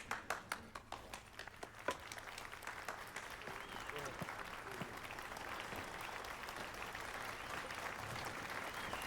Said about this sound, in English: There's awfully a lot of clapping sound effects happening